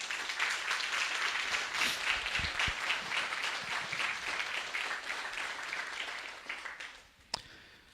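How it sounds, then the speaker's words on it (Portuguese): A church congregation applauds steadily, a dense, sustained wash of clapping hands in a large room that fades toward the end, ending with a single sharp clap. "Vamos aplaudir o nosso Deus."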